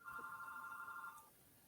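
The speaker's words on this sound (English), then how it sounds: "That is that's a landline phone." A landline telephone rings once, a bright electronic trill lasting about a second before cutting off in an otherwise quiet room.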